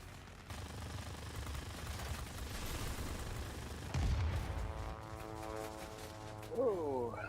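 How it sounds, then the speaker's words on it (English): Continuous rattling machine gun fire from a Curtiss P-40 Warhawk fighter in World of Warplanes, dense and sustained with heavier booms breaking through, and a rising whine of engines near the end. "you just see those machine guns really eat through those aircraft"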